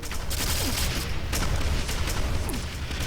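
Quake 4 team deathmatch combat: railgun shots and rocket fire crack and boom in a dense, continuous barrage, loud and close, with layered explosions and weapon mechanisms filling the whole stretch.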